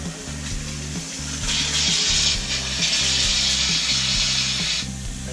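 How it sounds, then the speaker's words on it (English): An RV kitchen faucet runs while the rig is being winterized, a hissing, sputtering rush of water that swells louder midway and holds steady before easing, heard alone over a low, pulsing pump hum. "Same thing with the kitchen faucet, one side first."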